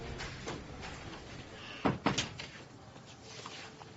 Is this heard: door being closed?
yes